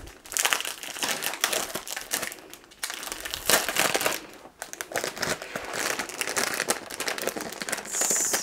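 Continuous close crinkling and rustling of a plastic bag being handled, loud and uneven with brief pauses, no talking.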